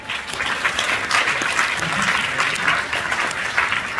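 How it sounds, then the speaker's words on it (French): Applause fills the hall at the closing ceremony of the FEFFS 2024 festival, a loud, steady crowd clapping that holds at an even level from start to finish with no voices. "Donc on peut encore les applaudir s'il vous plaît"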